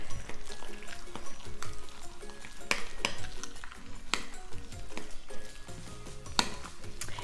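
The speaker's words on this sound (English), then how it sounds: "I'm gonna mix this around" Black bean burger mixture with breadcrumbs being stirred in a bowl, giving close, irregular scrapes and clinks of a utensil against the bowl, with some voice in the background.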